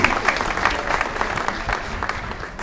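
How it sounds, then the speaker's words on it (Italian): A crowd applauds in an outdoor piazza during a square's reopening and inauguration, thick continuous clapping from many people, loud and close throughout the short stretch. "Beh, facciamo un altro applauso, perché va fatto a tutti quelli che veramente hanno lavorato e si sono impegnati."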